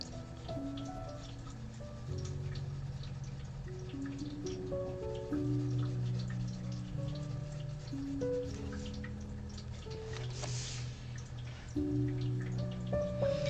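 A small indoor water feature trickles and drips softly and steadily in the background, mixed with faint tonal sounds.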